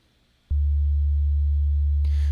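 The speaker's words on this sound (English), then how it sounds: "we can hear this super low tone and the frequency of the sine wave doesn't change at all" A constant very low sine wave test tone from Wwise starts abruptly and holds at an unchanging pitch, loud and steady, with a faint hiss joining near the end.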